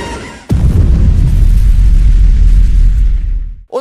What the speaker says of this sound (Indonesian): si Kaiju Adudu akhirnya ngelepasin ledakan besar biar bisa kabur